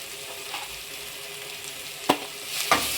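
Softened onion and tomato sauté in a pan for onion sambar, a low, even sizzle with two sharp stirring clacks near the end.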